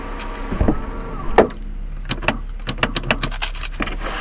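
A car sunroof motor whirs open, with a few sharp clicks and a light jangle of keys nearby, then a run of quick ticking knocks as it finishes.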